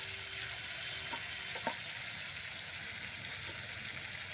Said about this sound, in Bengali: পেঁয়াজটা দিয়ে আমি ভালোভাবে কষে নেব